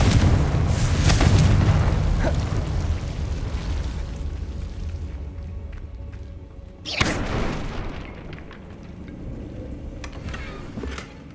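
A Confringo explosive spell blasts in Hogwarts Legacy, a loud booming burst at the start that rumbles and fades, then a second sharp impact midway with a decaying crackle and smaller pops after.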